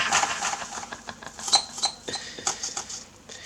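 Kitchen knife chopping onions on a board for homemade veg pizza, a quick irregular run of sharp taps and clinks close by, with no talking.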